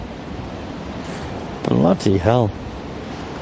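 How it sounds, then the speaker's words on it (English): Strong wind roars steadily against the microphone outdoors at a carp fishing spot, with a man briefly exclaiming over it midway. "Can you hear that wind, chat?"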